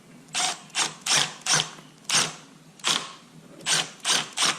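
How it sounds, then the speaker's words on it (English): Short screw being driven into a walk-behind weed trimmer shaft, producing about ten evenly spaced ratcheting clicks, each a short crisp burst, close and distinct. "Short screw screws into the shaft."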